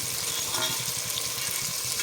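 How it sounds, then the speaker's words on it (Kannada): Fenugreek seeds, lentils and dried red chillies sizzle in a hot pan for sambar, a steady close crackle of frying with faint stirring, continuous and without talk. "ಇದನ್ನೆಲ್ಲ ಇವಾಗ ಒಂದ್ಸರಿ ಚೆನ್ನಾಗಿ ಫ್ರೈ ಮಾಡ್ಕೊಳ್ಳೋಣ."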